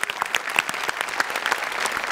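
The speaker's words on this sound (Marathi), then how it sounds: "जोरदार टाळ्या" Loud applause from a comedy show audience, a dense burst of clapping sustained for a couple of seconds, close and bright.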